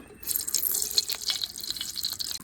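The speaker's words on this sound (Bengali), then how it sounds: "এবার আমি তেলটা দিয়ে দিব" Cooking oil pours into a pan for frying eggs, giving a steady, close, splashing trickle with bright liquid sparkle throughout.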